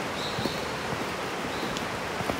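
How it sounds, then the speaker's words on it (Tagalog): Rain falls steadily outdoors near a steep cliff edge, making a constant hissing wash with faint pattering drops and no clear break. "Tingnan nyo, kahit na umuulan, tuloy."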